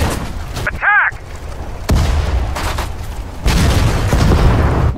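Tanks and infantry exchange fire in the WWII strategy game Sudden Strike 4, with sharp gun cracks, booming cannon blasts and rattling volleys. The shots are near and loud, and shouted commands are mixed in.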